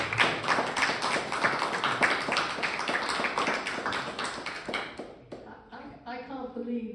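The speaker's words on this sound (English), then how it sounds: "let's have another round of applause for those speeches that sent shivers down my spine" Audience applause at a League of Women Voters event after speeches, lively crisp clapping that fades out near the end as a voice begins to speak.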